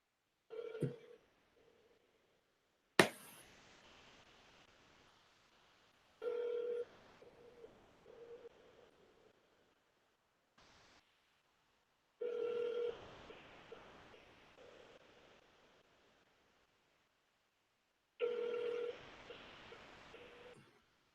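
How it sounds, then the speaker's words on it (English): A phone call on speaker rings out in short bursts of ringback tone separated by silence, with a sharp click near the start, fairly faint and with no talk. "Hey Siri, call Den Jones on speaker."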